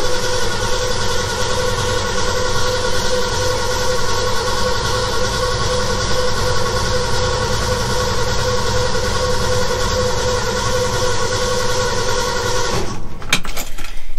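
An engine cranks over steadily with the clutch pushed in, producing a loud, continuous droning whir with a rhythmic starter churn that runs for about thirteen seconds before abruptly stopping with a clunk.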